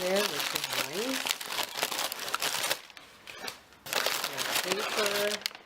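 Packing paper crinkles and rustles steadily while a parcel from London Drugs is unboxed, with a short quieter pause midway; a person talks over much of the handling.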